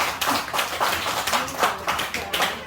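Church congregation applauding together at the close of a Korean Sunday worship service, a steady patter of many hands clapping at close range for a few seconds with no talk over it.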